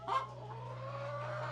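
Chickens in a henhouse give a single close, raspy cluck over a steady low hum, lasting barely a second and a half.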